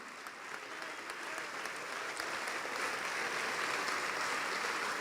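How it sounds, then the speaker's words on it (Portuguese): A church congregation claps continuously, the applause steady and building slightly, heard from a short distance in a large room. "Vamos aplaudir mais ao nome de Jesus."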